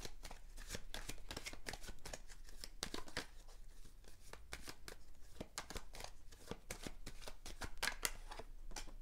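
A divination card deck being shuffled, with rapid papery riffles and flicks repeating steadily throughout at close range, with no talking.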